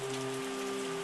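Steady rain hisses in the wine-making game Terroir, a dense even patter under a sustained tonal hum, with no talk.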